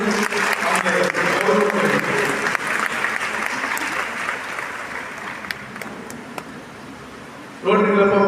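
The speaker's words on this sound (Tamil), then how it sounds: "நம்ம கொஞ்சம் கரகோஷம் பண்ணி" Audience applause at a Rotary Club school award ceremony in Tirunelveli: a dense, steady wash of clapping from a large crowd that fades gradually, then cuts off as a voice begins speaking over a microphone.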